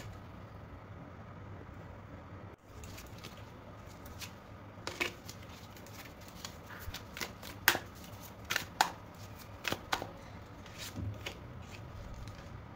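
Tarot cards being gathered up and cleared from a reading spread, producing soft shuffling swipes and sharper card slaps in quick irregular bursts against a quiet background hum.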